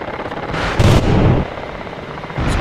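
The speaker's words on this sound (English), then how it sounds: "I kill this guy with the cannon again." Ka-50 attack helicopter firing its cannon in the combat flight sim DCS World, a dense rumbling burst near the middle over a steady loud engine and rotor drone, with no talk.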